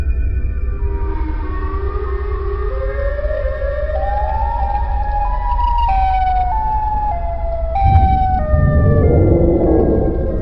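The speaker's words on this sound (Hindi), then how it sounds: "ये आवाज तो सायरन हेड की है" Siren Head's mechanical siren wails in a cartoon, layered rising and falling tones gliding over a heavy low drone, loud and sustained, with a sharp shift into a deeper blare near the end.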